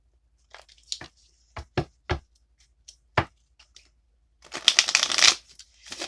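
Cards being shuffled: a few separate riffles and snaps, then a dense, crackling burst of riffling near the end, close and fairly quiet.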